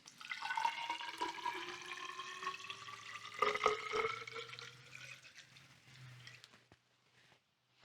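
Hydrogen peroxide, 10 volume, pours steadily into a graduated cylinder, a continuous liquid trickle with a rising tone as the cylinder fills, close and fairly quiet, ending in near silence.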